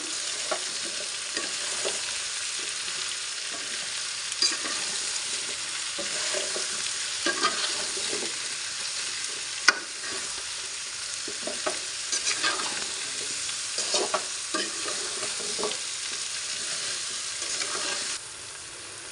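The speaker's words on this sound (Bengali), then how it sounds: "এবারে আবারও নেড়ে ছেড়ে নিব" Hog plum (amra) pickle with chili powder and salt is stirred in a frying pan, a steady sizzle broken by repeated scraping and clacking strokes throughout.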